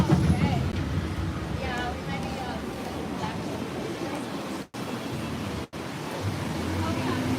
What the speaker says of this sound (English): it's nice to hear the water running